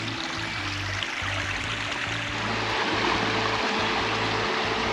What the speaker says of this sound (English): Yeah, I just got water from this little waterfall.